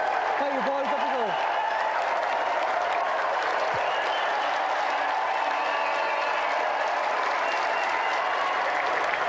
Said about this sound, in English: A round of applause, please, for John Morrison and the Sega champion, Da